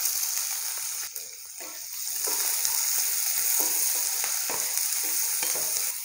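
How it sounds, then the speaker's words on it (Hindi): Finely chopped onion and ginger fry in a pan for dal khichdi, with garlic already browned: a steady, bright sizzle runs throughout, broken by scraping stirs and a brief dip near the start. "प्याज नूं 2 मिनट वास्ते भुन लेना है।"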